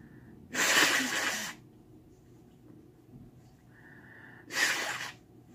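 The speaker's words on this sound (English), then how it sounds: "I have to blow my nose." Two loud, breathy blasts of nose blowing, close up, separated by a few seconds of near quiet.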